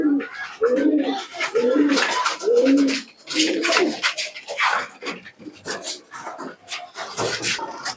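Kaldum pigeons cooing in repeated throaty bursts, fairly close, with a dog barking intermittently in the background.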